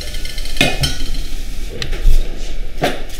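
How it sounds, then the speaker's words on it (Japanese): Pre-boiled beef offal is added to a pot of beer-simmered stew with daikon and konnyaku, giving a handful of sharp, close clanks and knocks of metal and utensils over a low background. "ホルモンも下茹でして、鍋の中に加えています。"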